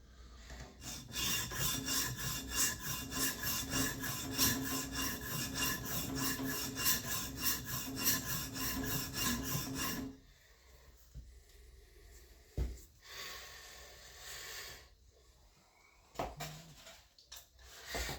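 Steady abrasive rasping of an EDC knife bevel being ground on a sharpening surface, continuous and close for about ten seconds before stopping, followed by a few faint scrapes and quiet handling sounds.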